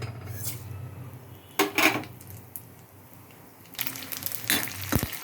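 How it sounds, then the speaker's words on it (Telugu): Garlic goes into a pan of tempering, or tadka, bringing a crisp sizzle with clinks and scrapes of a metal spoon against the pan. Two bursts of clatter break up the quieter frying hiss between them. "ఇప్పుడైతే తాలింపు పెట్టేసుకుంటున్నాను ఫ్రెండ్స్"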